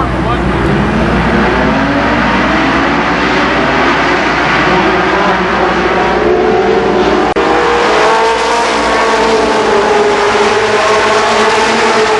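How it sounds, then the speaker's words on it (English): A field of 22 race cars roars around Columbus Motor Speedway in a 1992 super late model feature, a loud continuous wall of engine noise with shifting pitches as the pack passes, no talk over it. "Dean and Hill on the front row lead the pack of 22 cars"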